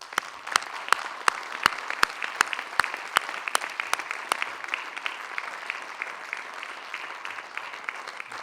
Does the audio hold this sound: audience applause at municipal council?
yes